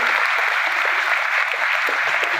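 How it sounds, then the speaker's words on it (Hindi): An audience at a seated talk breaks into loud, dense applause. The clapping is steady and sustained, with no gaps and no pauses, and it runs through the whole moment. "ताली जोरदार वाली बजाएं सर"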